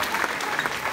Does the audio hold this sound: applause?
yes